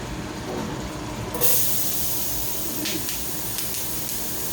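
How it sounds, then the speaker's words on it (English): Sliced onion hitting hot oil and butter in a pan breaks into a loud, steady hissing sizzle, with a few sharper pops scattered through the frying. "Popping a little bit, that's a lot of hot oil and butter, and onion is very juicy and wet."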